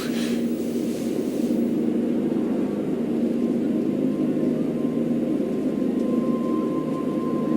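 Steady low airplane cabin hum in Life is Strange, a constant droning rumble with a faint higher whine, continuous and unchanging throughout.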